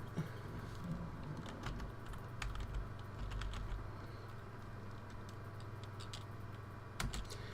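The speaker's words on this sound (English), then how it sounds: "So let's go ahead and type output." Soft, irregular clicks of typing on a computer keyboard, heard faintly over a steady low hum, with a slightly louder keystroke near the end.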